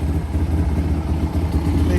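A 1985 Honda ATC350X three-wheeler engine runs steadily, with a low, throbbing rumble that holds constant and close for the whole stretch.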